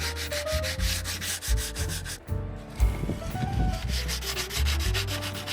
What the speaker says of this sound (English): Eventually got to break down and sand some things by hand.